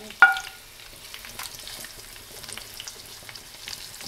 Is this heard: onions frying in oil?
yes